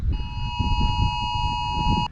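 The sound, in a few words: phones sounding a tornado warning alert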